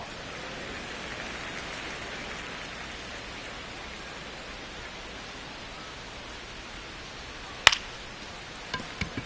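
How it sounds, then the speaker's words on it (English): Steady rain hisses evenly over a baseball stadium in a video game, a dense wash of drops throughout, broken near the end by a sharp crack and a few faint knocks. "This rain is not letting up."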